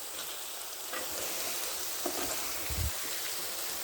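Burger patties sizzle steadily in a pan after being flipped, a constant crackling hiss with a few louder pops and a soft utensil clunk near the end.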